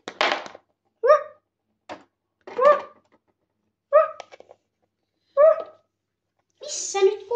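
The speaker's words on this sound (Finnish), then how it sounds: "Missä nyt koirakin haukkuu jo?" A dog barks in short, separate yelps, about six or seven of them spaced a second or so apart, fairly near, with quiet gaps between, at a horse stable.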